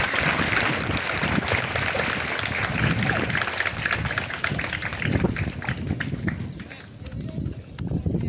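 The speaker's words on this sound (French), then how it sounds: "Applaudissez-la très vivement." Schoolchildren at a flag-raising ceremony in Ouakam clap together in sustained, dense applause that fades and swells toward the end, with a voice heard faintly among it.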